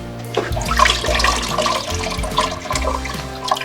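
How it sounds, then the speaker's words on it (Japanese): Raw oysters being rinsed under running water in a kitchen for a second wash before frying, with a steady splashing gush and sloshing that carries on throughout, close and fairly loud, with no talking. "水洗い2回目、結構出るんですよ、汚れ。"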